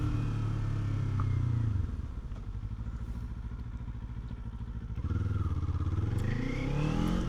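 A 2026 Kawasaki Z500 or Honda CB500F motorcycle engine hums steadily close by while riding. The note drops lower for a few seconds as the bike slows, then rises again as it pulls away.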